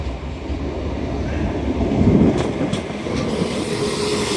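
A TransPennine Express train departs Leeds station on its service to Hull via Selby, a steady low rumble of rolling wheels and engine swelling slightly mid-clip, with some wind buffeting the microphone.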